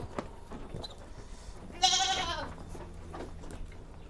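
Jrabang goat kids in a farm pen in Tulungagung let out a loud, wavering bleat midway, with fainter bleats and shuffling around it and no talk.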